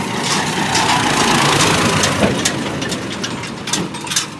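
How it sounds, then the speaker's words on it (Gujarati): A tractor arriving at a cement brick factory idles with a steady low engine rumble and faint rattling throughout, and no talk. "ટ્રેક્ટર આવી ગયું છે"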